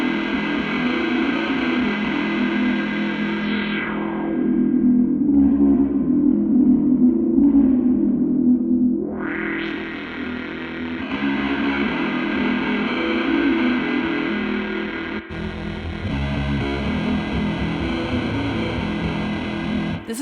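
Source Audio Artifakt Lo-Fi Elements pedal producing a fuzzy, distorted destruct tone, a sustained gritty guitar sound that sweeps downward and back up in the middle before continuing steadily, loud and alone.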